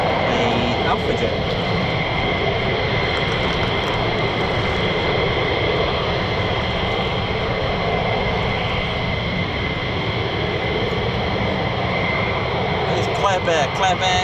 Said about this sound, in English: that does sound like an Alpha Jet